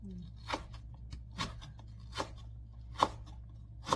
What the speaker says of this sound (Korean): 이렇게 해서 이제 채로 썰어줍니다